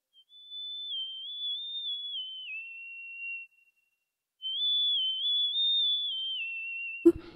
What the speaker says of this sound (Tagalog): So, para siyang sipol.